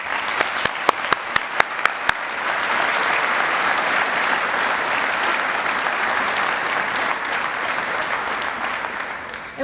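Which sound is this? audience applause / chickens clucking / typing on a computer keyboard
audience applause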